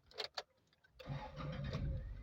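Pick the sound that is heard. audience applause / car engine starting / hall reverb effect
car engine starting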